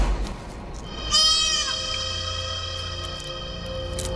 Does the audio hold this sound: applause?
no